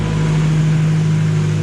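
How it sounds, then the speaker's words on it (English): Honda Integra engine idling shortly after a cold start, a loud steady low hum heard up close with no break and no one talking. "So you can already hear the idle pick up"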